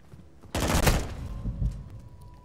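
Machine gun fire in Call of Duty: Modern Warfare II multiplayer, a short, fairly faint burst of rapid shots fading into a low rumble.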